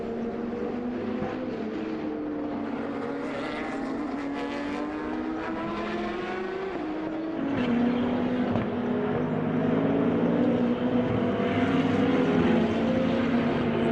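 Race car engines from a Histo Cup historic touring-car race at the Red Bull Ring, with a KTM among the field, drone steadily at mid distance, growing louder and fuller about halfway through as cars draw nearer.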